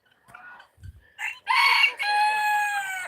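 A rooster on a poultry farm crows once, a clear, close, loud cock-a-doodle-doo with a rising then held strained call, preceded by a few soft clucks and low thumps.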